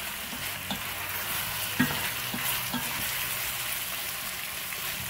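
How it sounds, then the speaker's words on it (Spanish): Potatoes frying with chorizo in a pan give a steady close sizzle with occasional stirring scrapes and soft pops, with no talk over it. "vamos a agregar lo que son nuestras papas y las vamos a integrar y freírlas por un minuto más"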